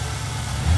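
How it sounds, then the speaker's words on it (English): A car engine idles steadily after being started in a repair shop, a low continuous hum that swells slightly near the end. "the engine gets started"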